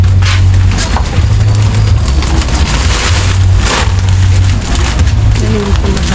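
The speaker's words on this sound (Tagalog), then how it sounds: "Umuulan po kasi." Steady rain falling outdoors, a dense continuous hiss with patter on surfaces, loud throughout, with low rumbling underneath and some voices talking.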